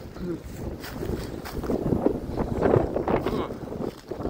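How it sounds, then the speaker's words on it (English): Strong, cold wind buffets the microphone in rough, gusty rumbles that swell and fade over a few seconds, outdoors in a yard in Woodbridge, Virginia. "wind is fierce."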